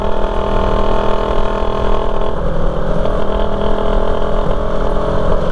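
A Rusi Raider 150 motorcycle engine runs steadily and loudly up close, a continuous mid-pitched drone with a slight shift in tone partway through, no voices over it.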